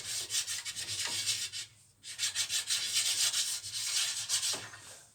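Paraffin wax rubbed onto the table of a woodworking machine, a close dry scrubbing in repeated strokes with one brief pause midway, no talk.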